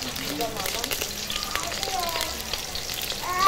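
Onions, leeks and celery fry in a pan with a steady close sizzle and crackle, faint stirring scrapes and brief background sounds, growing slightly louder at the end.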